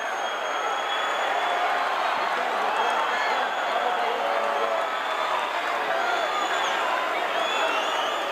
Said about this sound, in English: This massive capacity crowd here at the Sam Houston